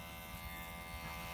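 An electric hair trimmer buzzes steadily through a men's high-fade haircut, a faint, continuous hum with no breaks.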